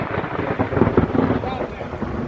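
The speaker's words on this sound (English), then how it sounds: "we're having a little summer storm here" A low, steady rumble of thunder during a summer lightning storm, close and continuous, with a few soft thuds mixed into the roar.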